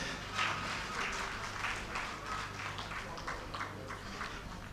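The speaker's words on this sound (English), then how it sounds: "A round of applause for him." A conference audience at an engineering event claps in a soft, distant patter that holds steady for several seconds, with a low hum underneath.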